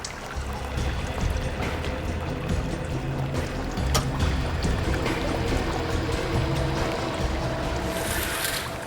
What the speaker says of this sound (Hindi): पानी बहने की आवाज आ रही है।